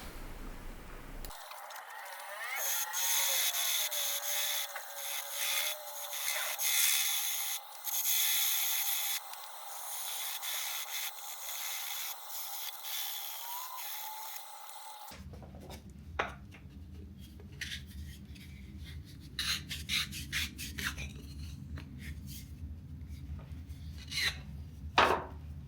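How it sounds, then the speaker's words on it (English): Rough, scratchy rubbing strokes of sandpaper on a wooden salt and pepper grinder, close and uneven, with a steady machine-like whine underneath at first, then drier irregular scraping. "A little bit of sanding here"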